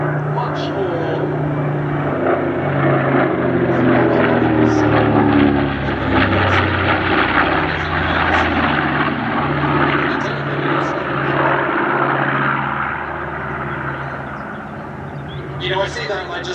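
Flying Bulls propeller aircraft at the Sywell Airshow, a steady loud engine drone with harmonic hum throughout, under continuous commentary voices.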